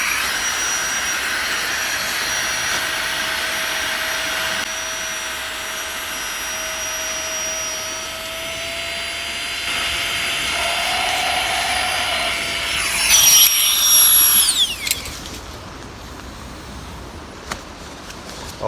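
A steady electric pump drones for about fifteen seconds while inflating a camping sleeping mat outdoors on a hike near Ennerdale Water, Lake District, its whine shifting pitch toward the end before cutting off.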